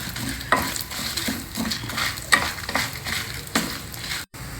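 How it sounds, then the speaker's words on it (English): Dry chana dal, urad dal and dry red chilies are stirred in a hot pan while they roast, giving a steady gritty scraping and rustle with faint sizzle and a few sharper spoon knocks, close and alone. "Mix them all well together."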